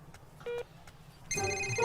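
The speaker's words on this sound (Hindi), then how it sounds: "अबे रिंग तो यहीं कहीं बज रही है।" A telephone rings nearby with an electronic ringtone, a brief tone followed by a loud sustained burst of ringing, with no one talking.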